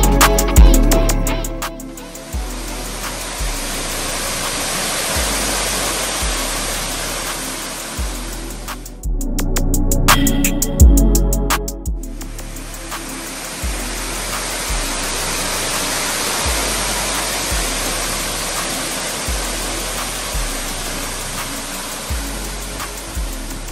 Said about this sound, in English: I am stepping into the stream of a waterfall